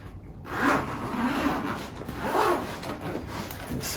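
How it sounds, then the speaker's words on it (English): Zipper on a carry case drawn open in two long, raspy pulls, close and fairly loud, with no talking. "Let's unzip the case"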